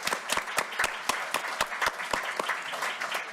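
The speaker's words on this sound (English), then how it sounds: "Please give her a round of applause." Audience applause at a school district board meeting for a retiring staff member, sharp distinct claps from a small group in an irregular close rhythm rather than a dense roar.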